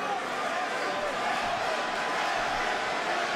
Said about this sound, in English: Looks like this California crowd starting to get behind Henry Cejudo now under 30 seconds, round 2.